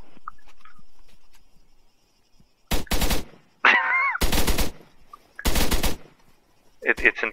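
Three loud bursts of rapid automatic gunfire in a video game mission, separated by quiet gaps, with brief electronic chirps between and short sound effects at the end.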